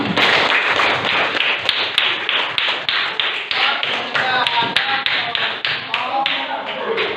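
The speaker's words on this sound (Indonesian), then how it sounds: "Tepuk tangan untuk kita semua." A classroom of students claps together in a rhythmic, fairly loud burst of hand claps that carries on steadily, with voices mixed in among the claps.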